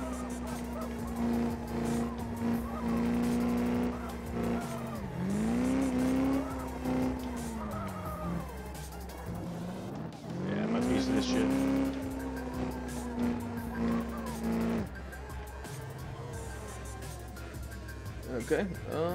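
Drifting car in a drift video game: engine drone with long, wavering tire squeals that rise and fall in sweeping arcs, several drawn-out slides with brief pauses between them, with a voice talking over parts of the run.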